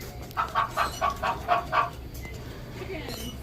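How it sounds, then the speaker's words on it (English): Chickens cluck in a quick series of about six calls, then fall quiet against faint background noise, at a farm area on Tom Sawyer Island. "We got the chickens in there."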